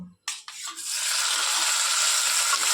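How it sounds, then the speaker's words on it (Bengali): Small pieces of paneer frying in hot oil in a home kitchen: a sudden burst of crackle settles into a steady, loud, continuous sizzle with no talking over it. "পনিরগুলো ভেজে নেব"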